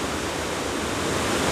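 Steady, dense roar of the Iguazu waterfalls in Brazil, heard from a high viewpoint above the falls, a continuous broadband rush with no breaks and no voices.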